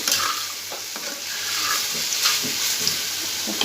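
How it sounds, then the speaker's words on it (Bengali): Sliced spiny gourd (kakrol) fries in a pan, a close, continuous sizzle and hiss with a few soft scraping stirs and light clinks, no talking. "তো আমি এখানে যে ভাজি বসিয়ে দিলাম কাঁকরোল ভাজি"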